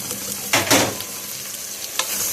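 Tomato, chili pepper, cumin and salt sizzling as they are sautéed, a steady frying hiss broken by two bursts of stirring and scraping, with no talk.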